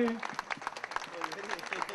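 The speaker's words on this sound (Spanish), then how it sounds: "Así que para todos ellos un fuerte aplauso." An audience at a political gathering in Cañuelas applauds. Crowd clapping patters irregularly at a moderate distance, mixed with voices.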